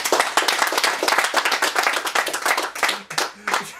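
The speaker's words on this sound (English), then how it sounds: "let's have a round of applause for the winner of today's quiz" Audience applause for a quiz winner, dense clapping from a small room crowd with a voice briefly creeping in near the end.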